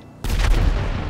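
A single loud gunshot in the open-world crime game GTA 5, a sudden blast after near silence that rings out heavily for about a second.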